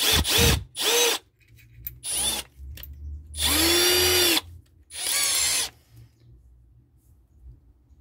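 A Milwaukee 2504 drill boring a hole through iron with a 4 mm bit, its motor whining loud and close in several separate bursts of a second or so, with short pauses between them.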